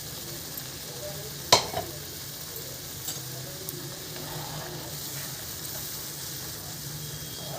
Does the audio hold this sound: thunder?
no